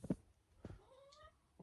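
A cat meows a couple of times up close, short rising calls followed by a longer drawn-out meow, with quiet gaps between them and no talking.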